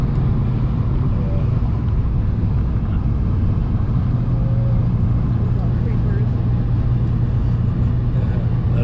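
A McLaren sports car in La Jolla, California, gives off a low, steady engine rumble that runs throughout, with people talking over it.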